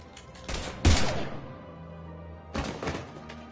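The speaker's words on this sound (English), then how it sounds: "Now open fire!" Two separate bursts of video game gunfire hit hard and close, each with sharp cracks and a thudding impact, and a short quieter gap between them.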